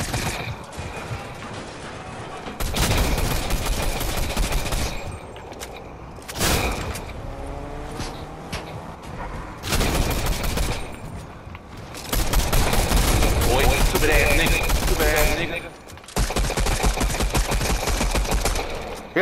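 Rapid bursts of automatic gunfire in a Fortnite duos match, loud clusters of firing alternating with quieter stretches of game noise across the clip.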